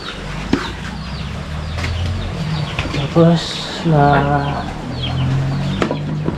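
Several chickens cluck and squawk nearby in short bursts, with a few louder calls midway, amid a busy yard background.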